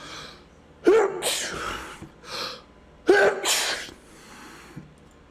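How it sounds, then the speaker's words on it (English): Two loud sneezes burst right into a close microphone, each with a sharp inhale and forceful blast, spaced a couple of seconds apart, with a softer breathy sound between them. "sorry about sneezing into the microphone."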